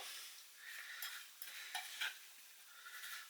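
Apples mixed with spice, sugar and sultanas, a continuous close, soft scraping and squelching of stirring with a few light clicks of the spoon, no voices.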